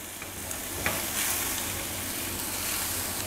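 Chicken pieces tossed with salt, black pepper, cumin and dried coriander powder sizzle steadily in a hot pan. A continuous frying hiss runs under brief stirring scrapes, close and with no talking.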